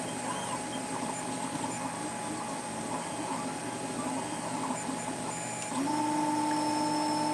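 A 3D printer runs steadily with whirring stepper motors and a constant mechanical hum, its tone shifting to a higher whine near the end, with no voices.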